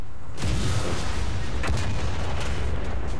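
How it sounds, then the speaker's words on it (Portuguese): A KV-2 tank in the War Thunder video game fires its cannon and the round explodes, a loud broadband boom that rolls into a sustained rumbling crash lasting several seconds. "Nossa, explodiu na frente dele."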